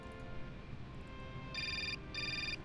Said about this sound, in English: Hey, phone.